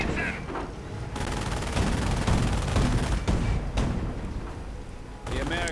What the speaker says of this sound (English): But the armored car is ready. Sonderkraftfahrzeug. Auto cannon and all.